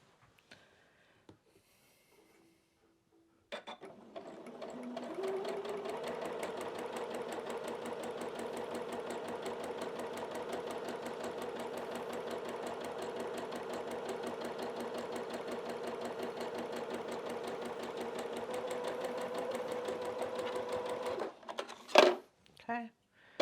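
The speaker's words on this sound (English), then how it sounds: "So we're going to go ahead and sew that." A sewing machine stitches a quilt block for a Lori Holt quilted snowman pattern, starting after a few seconds and running steadily at an even buzzing speed for about fifteen seconds before stopping with a few clicks; a little talk is heard near the start.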